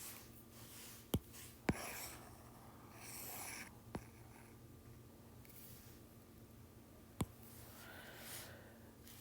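Marker or pen writing units on a board during a chemistry lesson, faint scratchy strokes over a quiet room hum, punctuated by a few sharp taps as the pen touches down.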